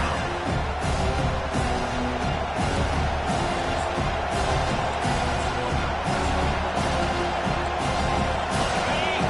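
Stadium crowd at a college football game cheering and roaring as it rallies behind the defense on third down, a dense, loud, continuous wall of noise with occasional whoops throughout.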